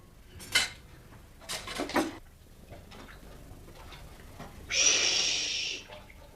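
Dishes clatter in a home: a few sharp clinking bursts near the start, then a longer, hissing rattle of crockery, all moderately close with no talking.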